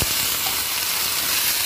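Water poured into a hot pan of mutton curry sets off a loud, dense, continuous hiss and sizzle, close up and without any talk.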